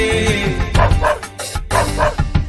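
A dog barks in a few quick bursts over a steady musical backing, the yips loud and close.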